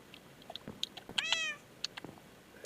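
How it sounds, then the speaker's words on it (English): A cat meows once, a drawn-out, close and fairly loud call with a clear rising tone. Soft clicks and small noises surround it, and no one speaks. "And there's the cat."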